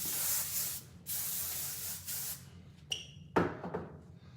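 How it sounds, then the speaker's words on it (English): Several short hisses of Control Medium hairspray sprayed onto hair, a few quick bursts with brief pauses between them, close and fairly soft, followed by a couple of sharper handling sounds. "And now I would use a little bit more of my new Control Medium hairspray. Give it another good dose."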